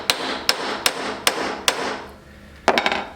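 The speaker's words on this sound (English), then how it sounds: "we're going to use what is called a ball peen hammer" A ball peen hammer pounds the edges of a metal piece on an anvil. Six sharp, ringing strikes land at a steady pace, then after a pause a quick cluster of lighter taps follows, loud and close.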